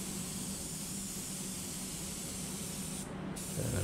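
A spray gun sprays base coat at 2 bar (29 psi) through a 1.3 nozzle, hissing in a steady, unbroken broadband stream, loud and close, holding constant for several seconds before a slight shift near the end.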